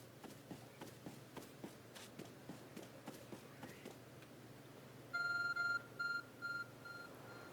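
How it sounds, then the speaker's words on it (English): In Pokémon Legends: Arceus, a glowing object gives off a run of electronic beeps, four or five short tones in an uneven pattern, loud and clear, following a steady series of footsteps. "There's a glowing beeping object over there."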